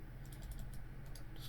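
A computer mouse clicks a few times in quick succession during work in 3D modeling software, faint and close against a low steady room hum.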